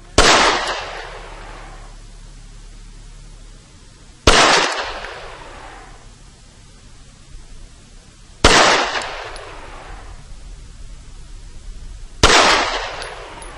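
Beretta 92FS 9mm semi-automatic pistol firing four single loud shots, each a sharp crack with a decaying echo, spaced roughly four seconds apart.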